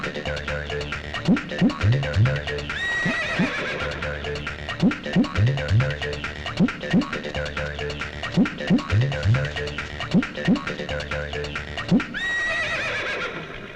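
A horse whinnies loudly several times in a film scene, each shrill neigh trailing down, mixed with clip-clop hoofbeats and a repeating rhythmic pattern throughout.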